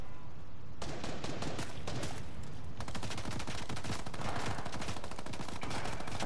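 Rapid gunfire in the video game Fortnite, dense bursts of shots that run almost continuously and grow busier partway through, loud and close with no talk over them.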